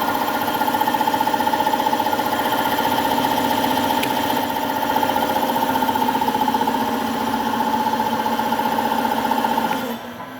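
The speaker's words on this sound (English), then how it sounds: "either this compressor, air compressor 1, or that one over here." A laboratory air compressor runs with a steady, loud mechanical hum and buzzing tone, continuous and close for about ten seconds before cutting off abruptly at the end.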